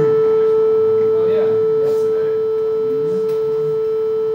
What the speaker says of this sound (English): So 440 hertz is a concert A.